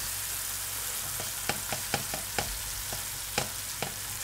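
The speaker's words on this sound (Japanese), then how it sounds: "バターが溶けたらブラウンソースと同じようにね玉ねぎから炒めていきます" Onion and minced garlic sauté gently in melted butter over low heat, a soft steady sizzle broken by scattered clicks and taps of stirring, with no voices.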